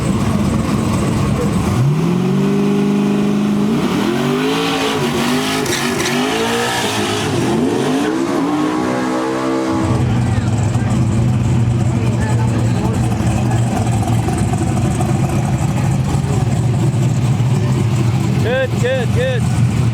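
Turbocharged big block drag race cars, including a Gen 7 Mustang, launch off the line at a Lights Out event. Loud engines rev and rise in pitch, then a steady roar continues with a voice talking over it.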